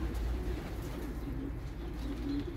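Pigeons in a loft in Islahiye, Gaziantep give low, soft cooing that runs on continuously, close by and moderately loud, with no talking over it.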